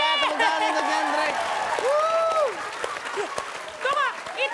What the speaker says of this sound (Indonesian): kasih tepuk tangan buat Gendry.